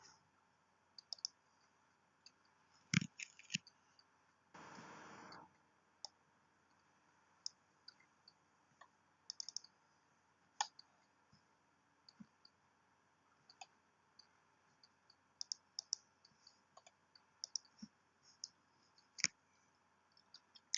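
Computer mouse clicks while working in layer-style software, sparse sharp single and double clicks scattered across a quiet background, plus one short burst of louder clatter.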